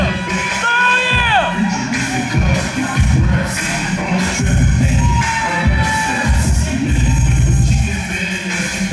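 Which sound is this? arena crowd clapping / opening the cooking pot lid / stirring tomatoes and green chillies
arena crowd clapping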